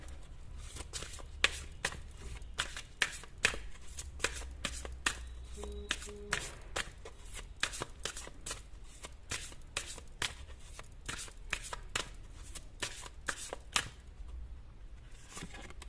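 Tarot cards are shuffled by hand close by in repeated quick riffles and flicking slaps that continue almost without pause, with no talk.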